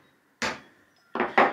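A Veritas scraper plane takes thin wood shavings in three short, close rasping strokes, one alone and then two in quick succession, with a quiet pause between and no talk.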